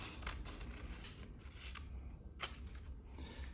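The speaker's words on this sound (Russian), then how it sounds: "Берете 2000-ную наждачку и просто ее порежьте. Просто вот так же ленточками режьте." Repeated crisp snips of scissors cutting 2000-grit sandpaper into strips, several quick cuts over a soft background hiss.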